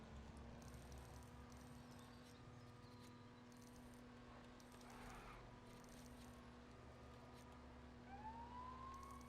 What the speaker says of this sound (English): Oh, but my sirens still work.